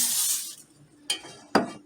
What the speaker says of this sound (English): So I'm just going to spray my pan.